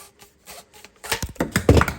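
A pipe cutter spun around copper pipe beneath a kitchen sink, giving soft scraping and clicking as the tool turns, quiet at first and then louder, close-up rasping in the second half.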